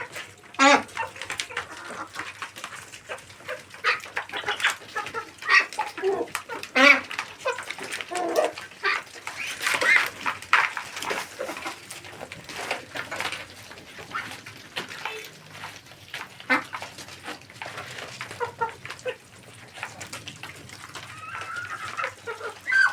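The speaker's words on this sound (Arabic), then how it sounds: "هو البط خلاص بدأ يكبر" Domestic ducks and chickens in a poultry yard, busy overlapping clucks, quacks and bird calls rising and falling nearby, with occasional speech in the background.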